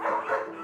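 A dog in a laboratory setting for stem cell tooth implants gives a short, close whimpering yelp, heard alone.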